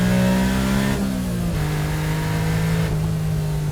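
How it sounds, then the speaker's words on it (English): A Honda Beat's small engine revs steadily up and down with a raspy, buzzing drone, loud and close throughout. "I love the sound of the engine,"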